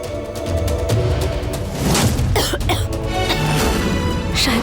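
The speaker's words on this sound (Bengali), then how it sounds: "তোমার তো কাশি হচ্ছে" Several harsh coughs ring out close by over a loud, dense background, coming in a short irregular cluster.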